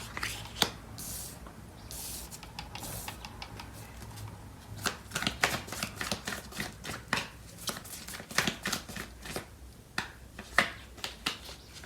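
Tarot cards shuffled by hand during a love reading: quiet, close, crisp riffles and slaps in irregular bursts, ending in a rapid run of card flicks, with no talk.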